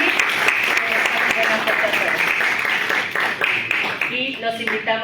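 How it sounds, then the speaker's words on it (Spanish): Audience applause at an electoral justice conference in Mexico, a dense steady wash of clapping with talk over it. "Les pido un fuerte aplauso,"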